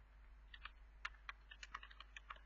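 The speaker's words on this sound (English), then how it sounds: "So I'm just typing" Quiet, irregular clicking of keys on a computer keyboard, bursts of quick taps with short pauses, close up and alone over a low hum.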